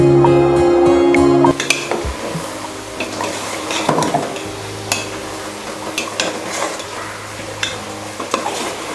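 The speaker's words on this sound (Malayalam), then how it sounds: "നമ്മൾ ചതച്ച് വെച്ച തേങ്ങ നമുക്കിതിലേക്ക് ഇട്ട് കൊടുക്കാം. ഇട്ടൊന്ന് ഇളക്കുക നന്നായിട്ട്." Crushed coconut being stirred into a koottukari vegetable curry in a pan, with repeated scraping and clanking of a spoon against the pot over a soft sizzle, after a brief burst of music at the start.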